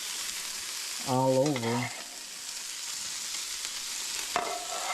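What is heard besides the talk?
vegetables frying in a skillet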